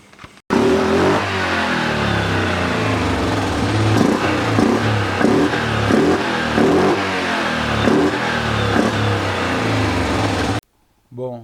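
A Yamaha Grizzly 700 quad with an intermittent electrical fault idles steadily and loudly nearby for about ten seconds, its engine chugging with a faint rhythmic pulse while a voice talks over it.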